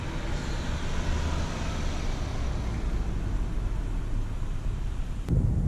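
A 2018 Honda Accord 2.0T Touring driving on a road, a steady, even drone of road and tire noise with low engine hum, heard from inside the car, with a faint bump near the end.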